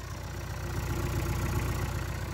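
A Isuzu 4KH1 diesel engine, original and unmodified, idles smoothly and steadily close by, a low even rumble with a fine regular pulse that holds constant for a couple of seconds with no other sounds.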